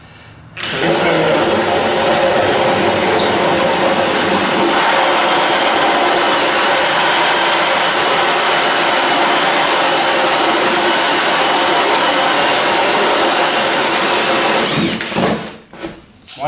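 A power drill bores through a quarter-inch cedar kayak deck from the inside, a steady, loud, close whine running nearly unbroken for about fourteen seconds before stopping.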